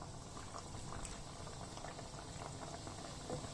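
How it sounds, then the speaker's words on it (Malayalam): Eggless doughnut dough fries in hot oil on medium heat, a faint, steady bubbling sizzle with small crackles throughout, heard without any talk. "നമുക്ക് എണ്ണയ്ക്കകത്ത് ഇത് വറുത്തെടുക്കാം"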